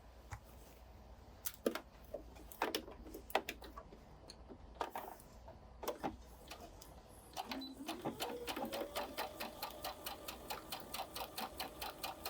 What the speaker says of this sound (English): I'm going to stitch just slowly along the stitch line that we marked.